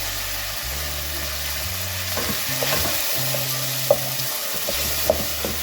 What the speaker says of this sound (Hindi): इसे भी थोड़ा सा फ्राई करेंगे।